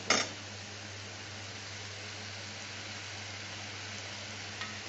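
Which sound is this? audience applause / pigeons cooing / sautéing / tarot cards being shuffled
sautéing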